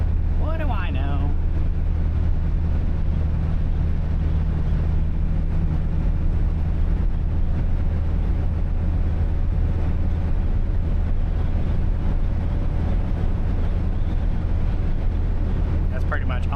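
Steady low engine drone and road rumble from inside a moving 1975 Chevrolet LUV pickup truck, continuous and even throughout, with no talking.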